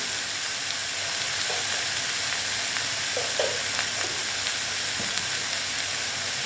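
Red amaranth greens frying in a pan with turmeric make a loud, steady, close sizzle and hiss, with a few soft stirring scrapes and no talking.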